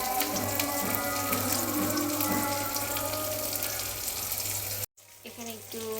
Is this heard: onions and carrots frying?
yes